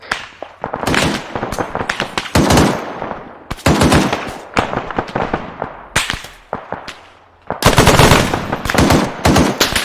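Heavy gunfire in the video game ArmA 3, with loud bursts of rapid automatic fire and dense cracking shots in several clusters, briefly pausing between volleys, close and intense.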